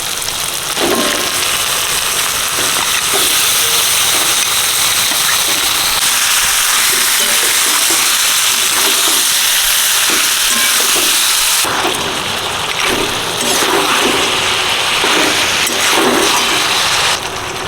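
Mutton hitting hot oil in a pan for Bengali kala bhuna, a loud, dense crackling sizzle that continues for the whole stretch, briefly sharpening near the end.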